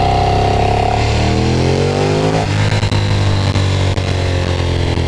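A Ducati Streetfighter motorcycle set up as a track bike runs close by with a loud, steady engine drone whose pitch slides down partway through, then settles into a lower steady rumble.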